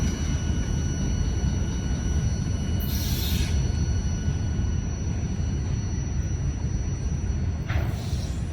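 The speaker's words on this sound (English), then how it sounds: "Listen to that engine humming" A steady, loud low rumble of a passing locomotive engine on a very heavy freight train, continuous throughout with faint higher squeals now and then.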